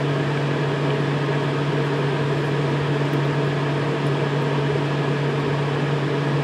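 A swamp cooler runs steadily in a garage, giving a constant loud whirring drone with a low hum, unbroken and close throughout.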